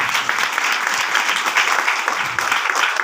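Sustained applause from an audience at a product demonstration, dense steady clapping filling the whole stretch without a break.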